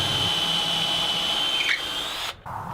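A power drill bores pocket holes through 2x4 stock set in a pocket hole jig, a loud close whine with a shifting tone as the bit cuts, then stopping sharply near the end.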